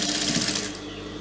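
A sewing machine stitches the slit and lining of a long, fully lined pencil skirt, giving a steady, continuous close-up whir for the whole moment with no pauses.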